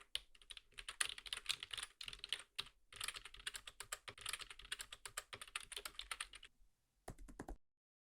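Fast typing on a computer keyboard, entering sorting-algorithm code: dense bursts of key clicks in a steady flurry with brief pauses, ending in a short final burst before silence.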